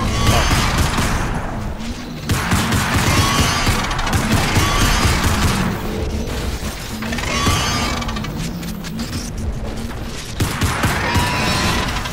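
Pistol gunfire and clattering weapon mechanics in the video game Crysis Remastered, a steady, loud run of rapid shots and metallic clicks over several seconds, with game sounds layered underneath.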